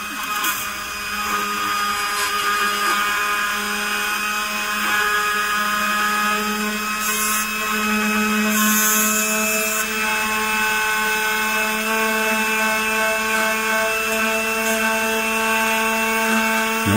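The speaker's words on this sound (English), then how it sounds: "Let's start our Dremel up." Dremel rotary tool spinning steadily on a Gottlieb electromechanical pinball armature switch against a block of wood, a continuous high whine with stable tones running throughout, close and fairly loud.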